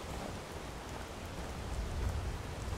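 Steady rain pours in the Skyrim video game, a dense, even hiss with a low rumble underneath and no voices.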